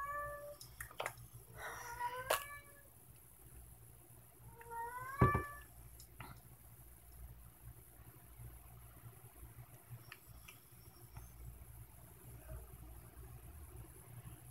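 Several meows from a pet cat come in the first seconds, close and fairly clear, then trail off into quiet room noise with a low background hum.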